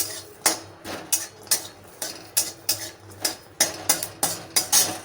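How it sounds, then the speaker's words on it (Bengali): Spoon scraping and clinking against a pan while pieces of ginger, chilli and garlic are stirred, about fourteen steady rhythmic scrapes at close range with no talking. "আদার টুকরোটা দিয়ে দেবো, লঙ্কার টুকরোগুলো দিয়ে দেবো, রসুনের টুকরোগুলো দিয়ে দেবো, দিয়ে একটু নাড়াচাড়া করে নেব"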